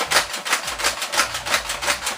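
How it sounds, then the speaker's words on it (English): X-Shot Turbo Advance toy blaster drum rotating without firing, giving a steady series of soft, evenly spaced mechanical clicks and ratchets, close and fairly quiet, with no voices. "The only noise you're hearing is it rotating the drum around"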